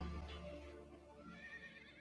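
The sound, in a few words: horse neighing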